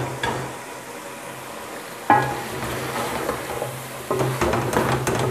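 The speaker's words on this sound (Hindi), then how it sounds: "और अब हम इसको भूनेंगे।" Grated carrot halwa roasting in real ghee in a pan, with a steady low sizzle and occasional stirring scrapes that grow busier toward the end, close and moderately loud.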